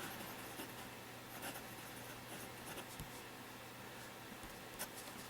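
A fountain pen nib scratches across paper in quiet, irregular strokes over a steady low hum, close and soft, with no talking.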